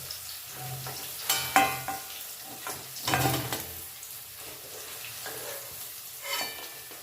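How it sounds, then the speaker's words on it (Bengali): Salted paneer cubes frying golden in hot oil for paneer masala, a soft sizzle with occasional louder bursts of spatter and light scrapes of a spatula, close and moderately quiet, no talk. "পনির এখানে আমি নুন দিয়ে গোল্ডেন করে ভেজে নিলাম"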